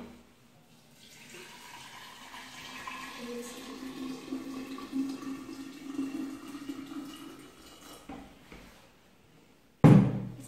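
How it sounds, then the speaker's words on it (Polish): Water pours from a tap or jug over sliced orange and sugar in a container for homemade lemonade, a soft steady splashing that builds then fades, ending in a sharp knock. "Zalewamy to wodą."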